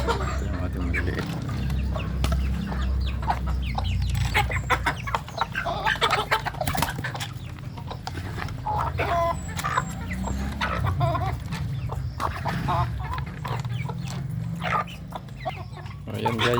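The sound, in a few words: chickens clucking while feeding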